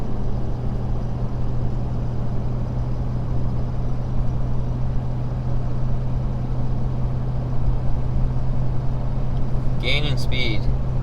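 Cab-interior drone of a Ford Powerstroke diesel pickup towing 14,500 lbs, a steady loud low engine hum throughout as it gains speed, with a brief higher whine near the end.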